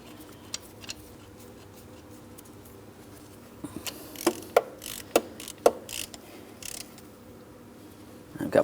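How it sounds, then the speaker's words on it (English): A hand ratchet clicks in short bursts as it tightens the mounting bolt on a serpentine belt tensioner of a 2003-2007 Cadillac CTS 3.6L V6, sharp close clicks grouped in the middle and again at the end over low background noise. "Let's tighten that mounting bolt."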